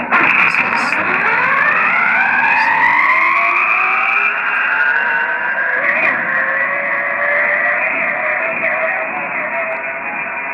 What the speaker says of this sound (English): you can really hear the car going through the dips over here with the slow-mo